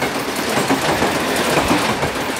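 A train rumbles past close by, a loud, steady roar of wheels and carriages with faint clickety-clack, no voices over it.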